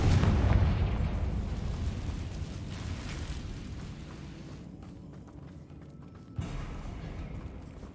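A Confringo fire-blast spell from the Hogwarts Legacy video game goes off as a loud, booming explosion at the start, rumbling away over several seconds, with a second sharp burst near the end.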